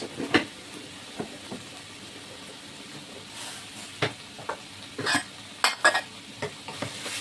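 Turmeric and Kashmiri chilli powder fry in a pan for a katla fish curry, a faint soft sizzle under intermittent spoon scrapes and metallic clinks against the pan.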